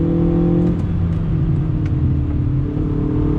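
A 2020 Hyundai Veloster Turbo hot hatch accelerates after a downshift, its engine note climbing as revs rise under throttle, heard from inside the cabin with a steady road hum beneath.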